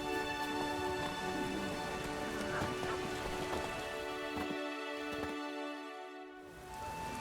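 Steady rain falling in The Witcher 3, a continuous hiss of drops holding at an even, moderate level for several seconds under a constant tonal game hum, with no voices.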